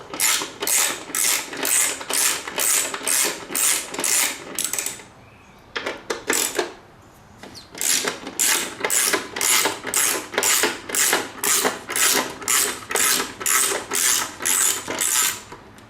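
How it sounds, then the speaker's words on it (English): Cover bolts being loosened and backed out on a Honda VTX 1300R motorcycle, a steady run of close, rapid ratcheting clicks in regular bursts with a brief pause midway, no talking. "So we take off the 5 bolts here."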